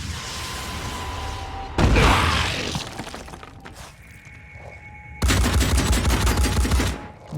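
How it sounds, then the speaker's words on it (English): Gunfire in the Phoenix Point strategy game comes in loud bursts of rapid automatic shots, separated by a quieter stretch with lingering tones before another sustained volley. "bit of return fire"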